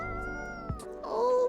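A cat meows once, short and clear, over soft background music in the video game Coffee Talk 2.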